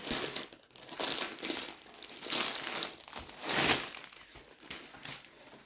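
Plastic film is pulled off a rolled diamond painting canvas, giving loud, close crinkling and crumpling in repeated waves with no talking.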